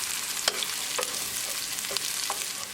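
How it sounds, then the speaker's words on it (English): Onions sizzle steadily in a pan with green chili while a utensil stirs them, giving a few soft scraping strokes over the constant frying hiss. No one speaks. "Mix it well. And keep cooking until onions are nicely translucent."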